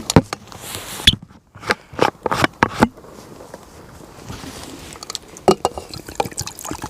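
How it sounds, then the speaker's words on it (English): Water poured from a container into a metal cup packed with nettles for soup over a campfire, heard as short splashing bursts and drips with pauses between, close by and fairly clear. "Add plenty of water."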